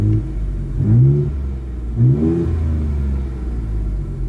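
A deep, rumbling 2020 Ford F-150 2.7 EcoBoost with an MBRP aftermarket exhaust revs twice, heard inside the cab, rising in pitch each time before settling back to a low, throaty idle.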